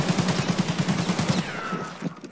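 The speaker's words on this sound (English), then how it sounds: "The nade rolled back down the stairs onto me" A grenade goes off right beside the player in Escape From Tarkov after rolling back down a flight of stairs, producing a dense, rumbling blast with rapid crackling bursts that fade into a ringing tail.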